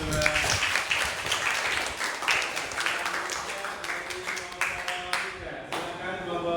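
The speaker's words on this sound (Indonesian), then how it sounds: "tepuk tangan untuk kelompok 2" An audience claps for a presenting group at a teacher-training class session, a brief round of applause under and between voices that carries on for several seconds.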